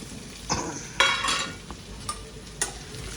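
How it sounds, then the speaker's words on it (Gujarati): Diced potatoes are tempered in hot oil for sabudana khichdi, a low steady sizzle broken by four or five scraping stirs of a spatula against the pan, with no talking. "ચાલો બટાકા વઘારે છે"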